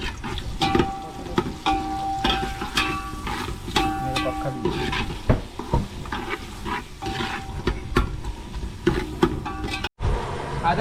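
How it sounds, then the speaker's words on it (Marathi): Onion cooking in oil in a pan aboard a fishing boat at sea, a rough continuous sizzle mixed with clattering stirring knocks and boat noise, fairly loud and close throughout. "सुरुवातीला आपण कांदा तेलामध्ये शिजवून घेऊ"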